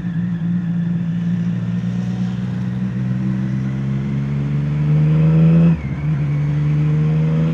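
Triumph Street Triple motorcycle fitted with an SC Project exhaust, ridden through Hyderabad traffic: a loud, steady engine drone with rising revs, a brief dip around a gear change, then the rasp settling back in, no talk.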